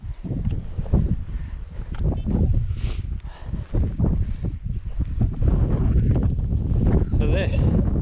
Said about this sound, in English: Excuse me, a bit windy.